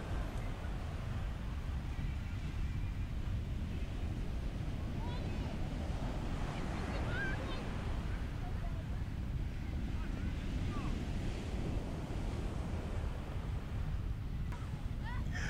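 Surf washing onto the beach at Primorsky near Feodosia, Crimea, a steady broad roar of sea waves mixed with heavy wind buffeting the microphone throughout.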